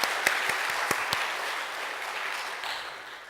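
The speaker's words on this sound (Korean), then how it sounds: "우리 성가대 위에서 다시 한번 하나님께 감사와 또 격려와 영광의 박수 올려드립니다" A church congregation applauds its choir after a hymn, steady clapping of a moderate crowd with a few sharp claps early, fading slightly toward the end.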